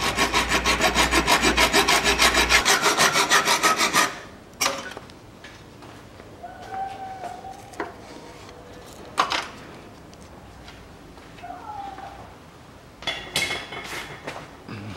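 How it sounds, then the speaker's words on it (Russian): A hacksaw with its blade turned sideways cuts off a bolt head on a Volkswagen Passat B6 front strut. Loud, fast, even rasping strokes run for about four seconds, then stop, leaving scattered faint clinks and knocks. "И спиливаем головку."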